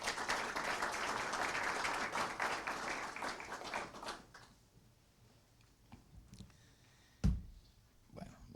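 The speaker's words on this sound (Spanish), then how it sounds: "Un aplauso para él, por favor." An audience at a formal Latin American development conference applauds a speaker, with dense clapping for about four seconds that then fades to scattered claps and small knocks.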